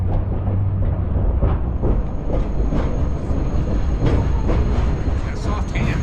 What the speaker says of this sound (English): face towards the back of the steam train as we go through to protect yourself from the cinders from the locomotive